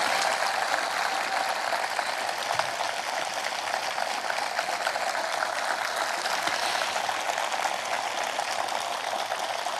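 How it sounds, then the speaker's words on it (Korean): Sustained applause from a large crowd at a memorial ceremony, dense steady clapping holding at an even level for the whole stretch, with no voices breaking through. "여러분 올해와 같은 박수 보내주십시오."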